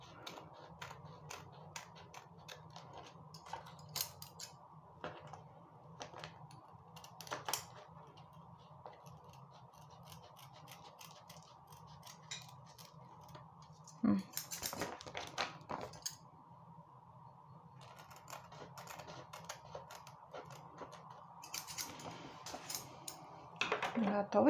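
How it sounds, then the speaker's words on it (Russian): Scissors trim the edge of a handmade paper money envelope, giving faint, close snips and small paper clicks scattered through a quiet room, with a few louder rustles along the way. "Чуть побольше захвачу ножницами."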